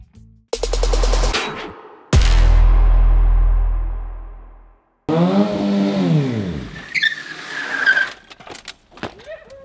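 A drift car on a circuit in Réunion roars as its engine revs hard in long loud bursts, each winding down, followed by screeching tires and scattered clunks and rattles up close.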